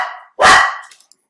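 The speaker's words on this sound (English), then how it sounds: "There goes my dog." A pet dog gives one sharp, close, loud bark that trails off quickly, with no voices around it.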